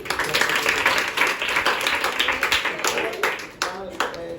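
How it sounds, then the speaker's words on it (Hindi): A group at a church prayer-night quiz claps in a quick rhythmic burst, close and lively, thinning out toward the end with some voices mixed in. "ताली जाएंगे।"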